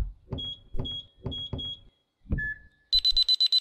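Fast electronic beeping alarm in the escape-room horror game Our Secret Below: after a few muffled thuds and short tones, a rapid run of about five bright, evenly spaced beeps sounds loud and close.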